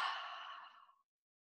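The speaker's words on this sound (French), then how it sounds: "Et on prend une grande respiration." One long, deep breath during a calm seated relaxation exercise, heard as a soft, breathy exhale that fades smoothly into silence.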